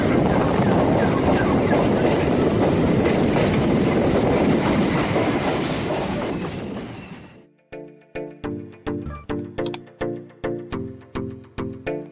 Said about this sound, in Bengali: আমাদের ট্রেন এখন বিবাদীবাগ স্টেশন থেকে ছাড়লো